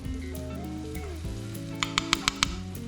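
Spices frying in a pan with softened, translucent onions for butter chicken give a soft sizzle under steady background music, followed by a quick run of five sharp taps near the end.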